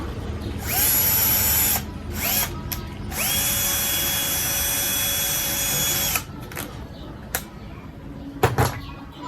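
An electric drill whirs in several bursts while making a fishing speargun, a short one, then a long steady run of a few seconds, followed by quieter clicks and knocks.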